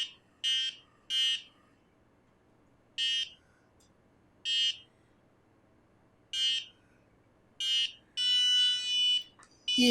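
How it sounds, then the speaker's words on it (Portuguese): Buzzer on a programmed robotics kit giving short high-pitched beeps in irregular bursts as the kit is rotated, with a longer sustained tone near the end. "Conforme eu vou girando, ele vai emitindo um som e vai emitir uma luz, de acordo com o que foi programado"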